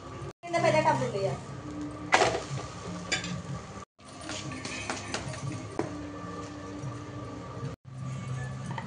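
Polelu flatbread roasting on a griddle for a Telangana-style Ugadi festival meal, with a continuous soft sizzle, occasional taps and handling noises, under someone talking throughout.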